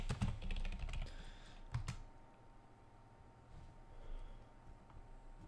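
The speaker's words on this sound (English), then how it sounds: "Can't type today." Fingers tap on a computer keyboard in short irregular bursts, close but quiet, with fainter pecking and pauses between the clusters and no voices.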